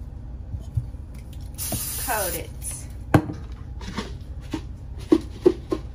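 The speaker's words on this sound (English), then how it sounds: "If I feel like it needs to be sprayed some more, I spray it some more." Raw chicken being coated with a spray: a short burst of hissing spray, then scattered taps and soft handling noises, with a person talking nearby.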